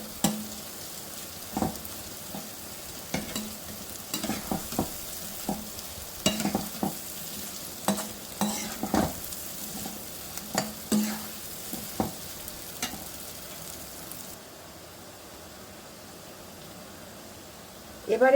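Spices frying for banana flower curry, a low steady sizzle broken by repeated spoon scrapes and knocks against the pan, fairly faint, ending in a quiet stretch.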